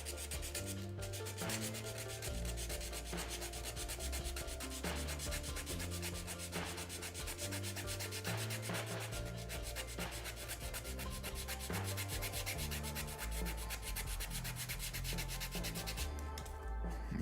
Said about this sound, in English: See how much comes off when you give it a really nice rigid sanding there